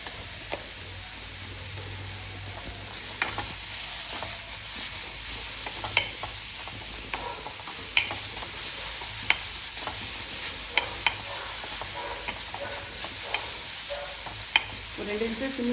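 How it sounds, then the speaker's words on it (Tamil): Carrot podimas vegetables sauté in a pan with a steady close sizzle, scattered stirring scrapes and clicks throughout, no talking. "டக்குன்னு வதங்கிட்டு பாருங்க"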